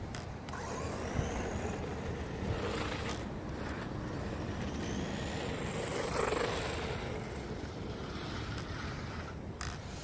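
A GPTOYS Judge Extreme S920 4WD off-road RC truck races at high speed, its electric motor whining and rising in pitch over a steady roar of tires on the ground, with a few brief clatters.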